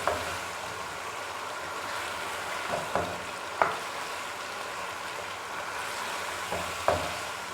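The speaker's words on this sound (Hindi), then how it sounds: "अब हम इसे अच्छी तरह से भून लेंगे।" Chicken karahi frying in a pan with a steady, close sizzle throughout, broken by a few sharp scrapes or clinks as it is stirred; no talking.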